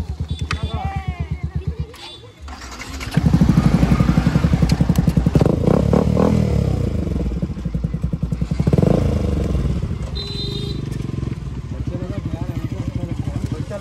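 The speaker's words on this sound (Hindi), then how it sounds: "तीन बाइक जब साथ में चल रहे" Three motorbikes, including a Yamaha R15, rumble and rev close by at Kashipur Ranjandihi Dam in Purulia, with voices calling out over the loud engine noise.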